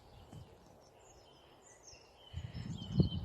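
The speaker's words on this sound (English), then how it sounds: "Listen, the birds is singing." Birds sing at sunset on a spring evening in Austria, their faint, thin chirps far off in the distance, while rustling and a brief thump close by grow louder near the end.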